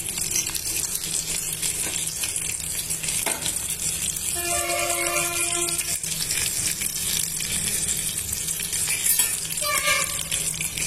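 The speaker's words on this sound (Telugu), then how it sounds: "అన్నీ బాగా వేయించుకోవాలండి." Garlic cloves, tamarind and cumin sizzle in a hot pan for hotel-style groundnut chutney, a steady close crackle with stirring scrapes and brief louder hisses throughout.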